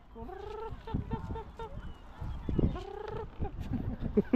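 Chickens cluck in short, repeated bursts close by at a flower farm in Houli, Taichung, Taiwan, with a few louder squawks and some rustling and handling noise in between.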